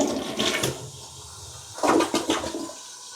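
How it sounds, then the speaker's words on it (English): A toilet being flushed after installation gives a loud, close rush of water that swells, eases off, then surges again as the bowl drains and refills, with no one speaking. "Now we're going to flush it."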